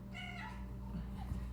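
A house cat makes a short, wavering meow indoors. It is faint and sits over a low background rumble.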